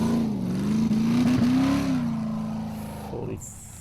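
Formula offroad car engine at full throttle at an Icelandic off-road racing event in Akranes, a loud sustained high-revving roar with rising and falling pitch, close, under a commentator's voice, dropping away near the end.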